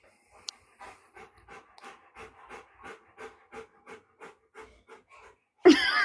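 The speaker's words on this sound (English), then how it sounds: "I hear them panting." Dogs panting in the heat, a steady run of short rhythmic breaths close by and fairly quiet, ending in a sudden loud burst of noise.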